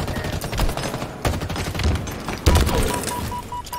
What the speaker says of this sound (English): That grenade nailed me.